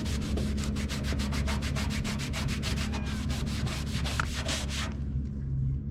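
Steady back-and-forth scraping of sandpaper on a rusty metal stove, rapid regular strokes over a low background hum, stopping near the end.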